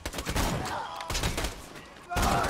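Bursts of rapid gunfire crackle through a video game battle, two dense loud volleys separated by a brief lull.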